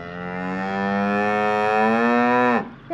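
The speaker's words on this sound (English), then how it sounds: "And that is a cow." A cow on a sunny Wiltshire dairy farm near Swindon lets out one long, loud, close moo lasting nearly three seconds, ending with a brief breathy snort.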